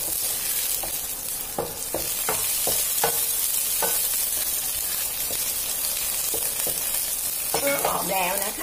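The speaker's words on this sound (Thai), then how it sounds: "แล้วเราก็นำขิงค่ะ กระเทียม แล้วก็ต้นหอมค่ะเราจะเจียวกับน้ำมันให้หอมก่อนนะคะ" Ginger, garlic and spring onion fry in hot oil for a Thai butter-baked prawn dish, a steady broadband sizzle with repeated clicks and scrapes of stirring, close and loud throughout.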